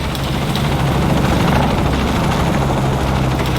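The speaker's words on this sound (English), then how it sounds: "There's a helicopter here." Helicopter in the video game Shadow of the Tomb Raider, a loud, steady close rotor thump with heavy low engine rumble continuing unbroken.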